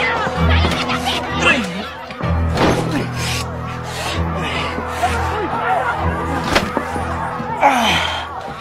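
A door slams shut with a sharp thud amid tense, overlapping shouting voices, with a second heavy bang a few seconds later, close and loud under the talk.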